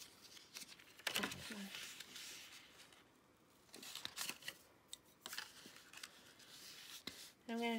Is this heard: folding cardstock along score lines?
yes